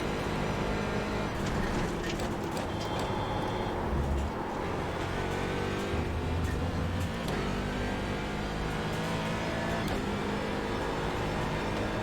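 A racing car engine drones steadily in an IMSA sim racing game, a constant loud mechanical hum with slight shifts in pitch and no talk over it.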